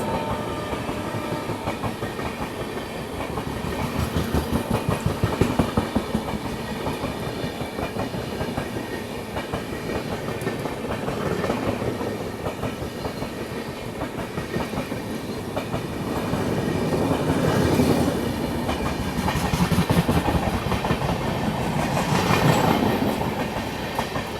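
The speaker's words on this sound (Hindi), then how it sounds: "पूर्वोत्तर संपर्क क्रांति यहाँ पे ओवरटेक कर रही है अपने को" The Purvottar Sampark Kranti Express overtakes a stopped train, giving a loud, steady rumble up close with continuous clickety-clack of wheels over rail joints that swells and ebbs for the whole stretch.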